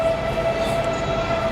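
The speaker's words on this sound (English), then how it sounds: "That's a train. I thought it was someone playing a trumpet." A train passes at a distance with a steady sustained horn tone over a low rolling rumble, moderately faint and heard alone without talk.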